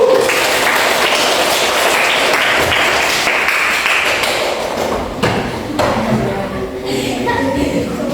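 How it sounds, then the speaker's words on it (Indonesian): Classroom participants give a burst of applause for the first group at a coaching session, a dense, steady clatter of many hands close by that thins out toward the end. "Tepuk tangan untuk kelompok 1"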